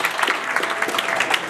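An audience at a fundraising event claps steadily and densely, a continuous wash of many hands close by with no pauses.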